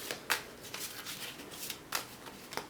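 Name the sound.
shuffling a deck of goddess oracle cards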